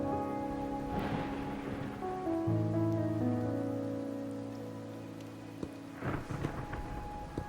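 Steady rain with rumbling thunder in the video game Wuthering Waves, heard under sustained musical tones, with soft swells of storm noise rising near the start and again toward the end.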